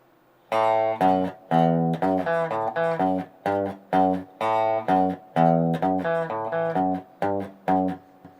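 Guitar picking an A bass line, a 14-bar blues riff, played as a clear sequence of detached, evenly spaced notes in a bouncy repeating pattern, close and alone without voices.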